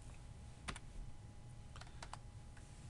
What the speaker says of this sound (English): I just typed really fast.